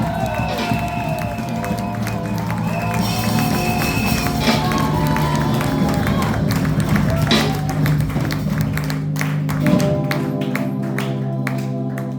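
A church congregation cheers and acclaims to welcome a prophet, a steady dense crowd roar with claps, shouts and music, sustained and loud throughout.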